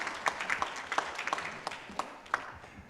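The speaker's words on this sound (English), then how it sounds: "Let's have a round of applause for Stephen and Erin." At a community talk about Bucks County water and sewer, a small audience gives a brief round of applause, a few claps close by against light room noise.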